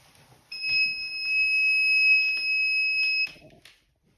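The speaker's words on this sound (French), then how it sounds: "c'est une sirène intérieure d'alarme Echo 3" A loud, piercing electronic alarm tone from a Siemens Echo 3 indoor alarm siren sounds continuously for about three seconds indoors, then cuts off abruptly.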